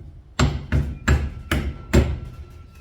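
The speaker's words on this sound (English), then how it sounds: "brand new circlips. They go on really nice. You'd think they'd be flying around the workshop, but they're not too bad. And we just tap them on" Brand new circlips tapped onto a Toyota Hilux drive shaft universal joint in a workshop vise: five sharp, close metallic hammer taps, evenly spaced about a third of a second apart.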